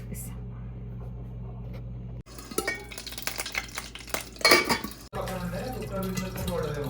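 Hot oil with butter spluttering and crackling in a pan while pav bhaji cooks, with water droplets in it; irregular loud pops and spatters come in a burst mid-clip over a low steady hum, and a voice is heard faintly.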